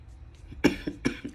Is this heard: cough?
yes